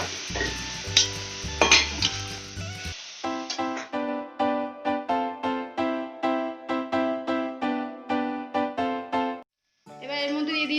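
Chicken being stirred and mixed in a pan for a Bengali-style chicken paratha, with a few seconds of close scraping and sizzling before rhythmic music takes over.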